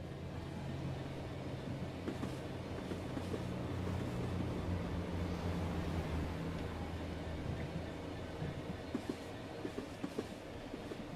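A Class 66 diesel hauling an aggregate freight train in Train Sim World 6 gives a steady low engine drone and rolling rumble, continuous and moderately loud, with no voices.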